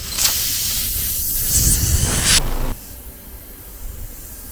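Air hisses out of a car tire punctured by a nail, a loud steady spray that cuts off abruptly, leaving quieter background noise.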